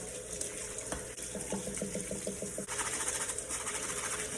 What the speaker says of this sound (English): Or you can rinse it out a few times with your bowl. Nice cold water